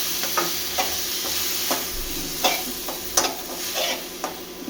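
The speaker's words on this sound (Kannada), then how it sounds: "ಪಾಲಕ್ ಸೊಪ್ಪು, ಶುಂಠಿ, ಬೆಳ್ಳುಳ್ಳಿ, ಮೆಣಸಿನ್ಕಾಯಿ ಇದು ಹಾಕೋದು. ಇದು ಹಾಕ್ಬಿಟ್ಟು ಚೆನ್ನಾಗಿ ಮಾಡ್ಕೊಳ್ಳೋದು." Spinach, ginger, garlic and chili paste stirred and frying in a pan, with a steady sizzle and repeated scraping strokes of a spoon every half second or so, close and moderately loud with no talking.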